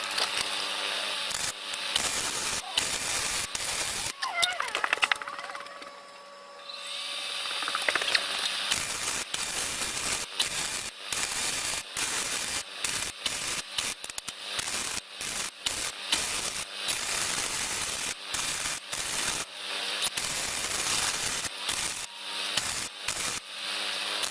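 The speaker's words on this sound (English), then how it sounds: "I'm going to add weld to kind of thicken this up" Arc welding on steel to build up a knife blade's handle: a close, steady crackling and sputtering buzz with rapid irregular bursts, pausing briefly around the middle before resuming.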